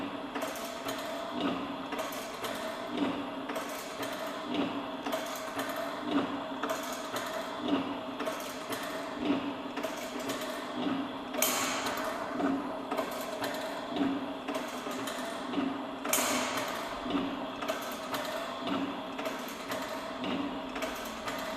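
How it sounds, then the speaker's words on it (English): A Wood-Mizer blade tooth setter machine sets saw blade teeth in a steady mechanical cycle, rhythmic clicking and whirring repeating about every second and a half, with two sharper clacks standing out over the even hum. "you see how this machine works. Pretty fast."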